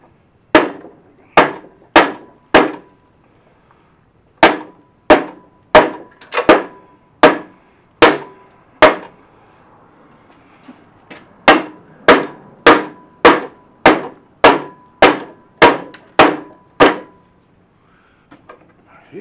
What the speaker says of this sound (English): let me grab this little dead blow action.